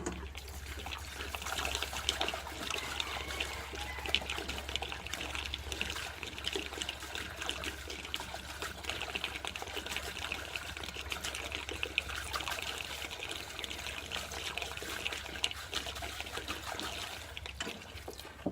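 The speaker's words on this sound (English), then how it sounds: "Jerry can full of fuel. Trying not to spill any." Fuel pours from a jerry can in a steady, continuous gurgling stream that runs unbroken for many seconds, close by, with a low hum underneath.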